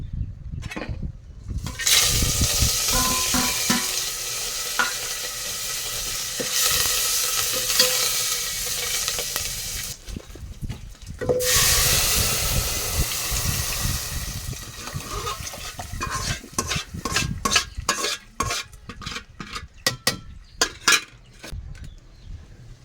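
Tempering spices of dried red chilies, curry leaves, cumin and garlic fry with a loud, steady sizzle in hot oil, broken by brief lulls and followed by scattered stirring clatter toward the end.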